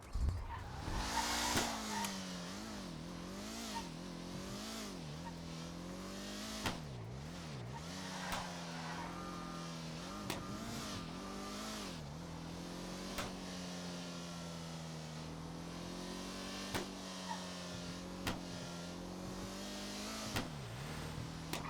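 A car engine in the video game GTA hums and revs continuously, rising and falling in pitch with repeated bursts of acceleration and a few sharp clicks, loud throughout with no talking.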